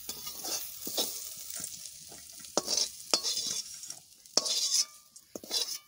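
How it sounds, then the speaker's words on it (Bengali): Soybean chunks fry in a pan for a vegetarian paneer curry, with a constant soft sizzle broken by several sharp scraping strokes of a spoon as they are stirred, close and without speech. "সয়াবিনটা একটু ভালো করে ভাজ দিয়ে, সয়াবিনটা একটু ভালো করে না ভাজলে ভালো লাগে না।"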